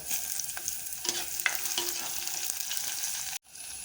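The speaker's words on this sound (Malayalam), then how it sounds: "ഉള്ളി ബ്രൗൺ നിറമായി വരുമ്പോൾ അതിലേക്ക് പച്ചമുളക്, ഇഞ്ചി ഇവ ചേർക്കുക" Onion sautéing with green chilli and ginger in a pan, a steady close sizzle broken by scraping stirs, with a clatter near the end and no voices.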